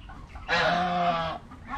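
A single loud, drawn-out goose honk lasting about a second, with quiet farmyard background before and after.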